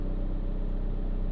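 Turbocharged Subaru BRZ with a new exhaust idling, a steady low droning rumble holding constant and close throughout.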